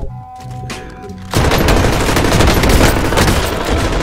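Dense automatic gunfire in the Call of Duty Warzone video game erupts after a quieter opening second, then continues as a loud, sustained burst of rapid shots.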